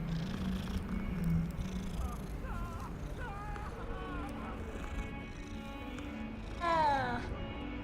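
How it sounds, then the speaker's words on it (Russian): Cat in the video game Hogwarts Legacy, purring low and steady near the start, then a brief meow later, with someone talking softly over parts. "О, котик. Привет, котик."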